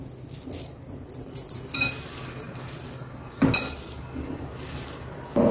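Sweet corn and cheese ball mixture is worked in a bowl, giving repeated scraping and clinking of a utensil against the dish, with a few sharper clatters, fairly close and without speech.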